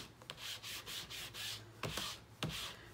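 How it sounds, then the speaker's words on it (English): An ink pad is rubbed back and forth over a plastic embossing folder, making soft, dry, repeated scuffing strokes with a few sharper taps, quiet and close with no talking. "So you just take your ink pad and rub it all over your embossing folder"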